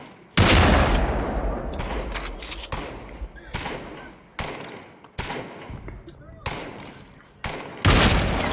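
Gunfire in the Population One VR battle royale, with loud close shots and bursts that start hard and ring out, repeating in irregular clusters over several seconds.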